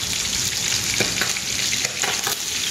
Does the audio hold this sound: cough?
no